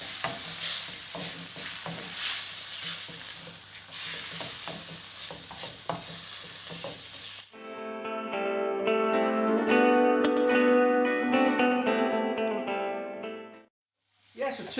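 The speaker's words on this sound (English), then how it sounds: "Hopefully it'll sizzle this" Chicken frying in a pan, a loud continuous sizzle and stirring, with a person talking over it in the first half before a stretch of music and a brief return to the sizzle.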